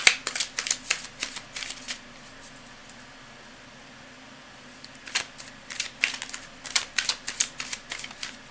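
Tarot cards being shuffled by hand at close range, quick rhythmic bursts of soft riffling clicks, pausing for a few seconds before resuming, with no talk.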